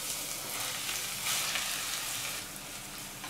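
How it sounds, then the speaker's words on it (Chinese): Hot Sichuan peppercorn oil poured onto chili flakes and minced garlic crackles in a dense, bright, continuous sizzle that swells briefly midway and eases slightly near the end, close up and without speech. "将热花椒油浇到辣椒面上"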